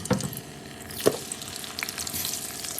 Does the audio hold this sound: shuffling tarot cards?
no